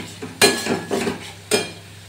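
A spice paste of mixed masala, sugar, biryani spice powder, salt, ketchup, and onion, garlic and ginger paste is stirred in a pan, with three distinct scraping strokes of a utensil against metal over a faint sizzle.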